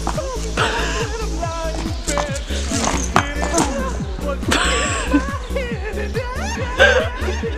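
A horse moves with steady, rhythmic hoof clip-clops, close and even, under continuous talking and some laughter.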